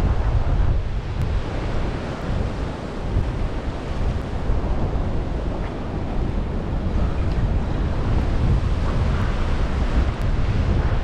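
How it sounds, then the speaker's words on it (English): Steady roar of wind buffeting the microphone over continuous crashing surf at Pensacola Beach, Florida, loud and unbroken throughout with no voices. "It's a bit windy today"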